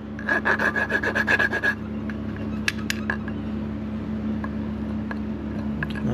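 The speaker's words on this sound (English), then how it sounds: "sand it again with the 220" Sandpaper rubs rapidly back and forth over a painted Toyota Yaris wheel rim in about a dozen close, rhythmic strokes, then stops, leaving a low hum and a few light knocks.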